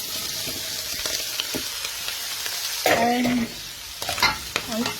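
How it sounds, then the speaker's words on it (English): Potato, leek and celery cooking in a soup pot, with a soft sizzle and scattered stirring scrapes, close by, and a brief voice near the end. "Now I'm going to add the potato, leek and celery."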